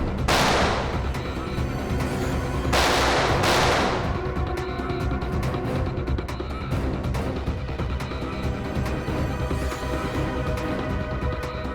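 Dense, continuous gunfire with sharp loud bursts early on, shots ringing out nonstop in a chaotic exchange during a shootout in a Hindi TV crime drama.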